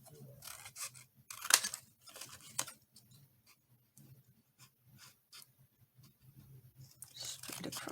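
Scissors snipping a playing card during a craft project, a handful of short, close, quiet cuts spaced irregularly among soft handling rustles.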